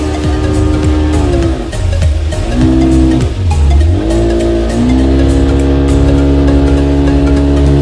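Inside a car on the winding mountain road to Kanatal, the engine drones loudly and close, its pitch dipping and rising repeatedly as the vehicle slows for sharp bends and accelerates out again.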